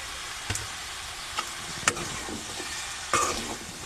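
Vegetables fry in a pan with a low, steady sizzle, punctuated by a few distinct close scrapes and taps as they are stirred, with no one speaking.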